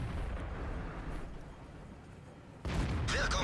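A tank cannon in World of Tanks fires once with a sudden loud boom about two-thirds of the way through, after a steady low rumble of engines and battlefield noise.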